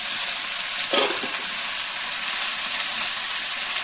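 Eggplant and pumpkin pieces sizzle steadily in hot oil in a pan, a bright continuous frying hiss with a brief stir-clatter near the start and no voices.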